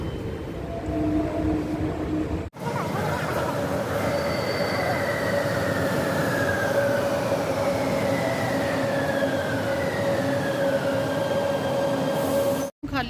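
A Delhi Metro train arriving rumbles steadily nearby, its wheels letting out long, high squeals against the rails; the roar continues without letup and no one speaks.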